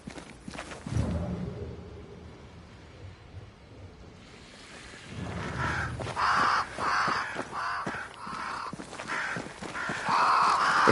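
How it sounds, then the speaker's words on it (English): Crows caw around a great tree in the video game Banishers: Ghosts of New Eden, harsh calls rising over a wash of surf-like ambience with a few footsteps, moderately loud and without speech. "Crows. They flock to that great tree up there."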